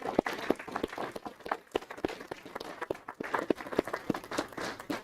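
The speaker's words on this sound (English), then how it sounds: "We'll give them a round of applause." Scattered applause from an audience at a school board meeting for student athletes, with sparse, uneven individual claps that sound fairly close and moderate in level, somewhat thin like a small gathering.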